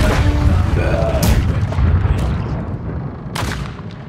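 Heavy booming ship cannons fire a broadside in the pirate naval game Blackwake, deep rumbling blasts rolling and decaying amid sharper cracks, loud and close, with a voice briefly heard in the din.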